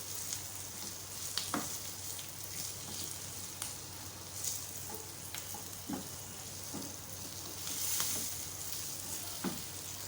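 Green chillies frying in a pan for a spicy chilli dish, giving off a continuous quiet sizzle. Scattered crackles and spatula taps punctuate it throughout, fairly faint and steady, with no one talking.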